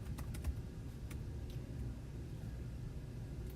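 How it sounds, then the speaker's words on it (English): Quiet computer keyboard typing, a few light clicks scattered over a steady low background rumble. "I'm just gonna type new labels"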